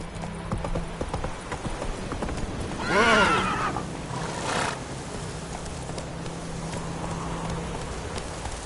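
Horse hooves clip-clop steadily in The Witcher 3, with a whinnying neigh near the middle and light rain-like ambience underneath.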